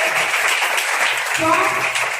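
Audience at a St. Queens School ceremony honouring schoolgirls claps in a steady, fairly loud wash, with a voice talking over the applause partway through.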